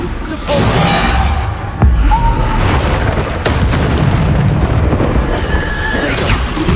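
Bombarda spell blasts in Hogwarts Legacy combat: a loud, dense rumbling explosion layered with whooshes and crackling debris, continuous and close, with other spell effects and voices shouting through the battle.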